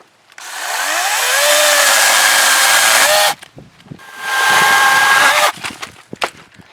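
A small chainsaw cuts through a good-sized tree limb on a homestead, with a loud, close, sustained high-revving buzz, a brief drop to idle, then a second full-throttle burst before the engine sputters down.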